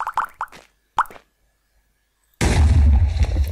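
A shot explodes in the voxel game Terasology: a sudden loud blast bursts in and roars on as a dense, rumbling burst, following a few earlier soft pops and a stretch of near silence.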